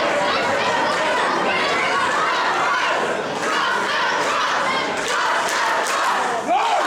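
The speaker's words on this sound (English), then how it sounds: "The crowd with the trust the crust chant coming through loud and strong here" A wrestling crowd at a MayhemMania show in Bacchus Marsh, Australia, chants "trust the crust" in a loud, steady, continuous roar that fills the whole stretch without pause.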